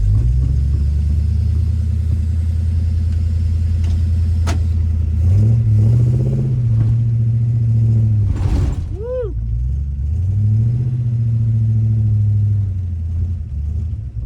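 A barn-find 1958 Plymouth cruises in third gear, its engine droning loud and steady with a brief rising rev partway through and a short mechanical clunk, heard close inside the car.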